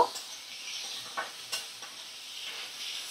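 Fish coated with turmeric powder and salt frying over a medium flame, a soft continuous sizzle broken by a few light stirring scrapes, fairly quiet and close.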